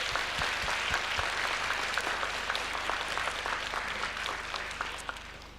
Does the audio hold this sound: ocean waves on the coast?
no